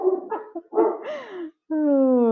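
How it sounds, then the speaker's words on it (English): A dog close by makes a rapid string of barks and yips, then a brief pause and a sustained whining howl at the end, loud and clear indoors, with no speech. "Oh, there's my dog."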